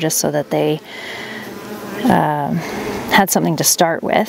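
Honey bees in a beehive give off a steady buzzing hum close to the microphone, running under a person talking throughout.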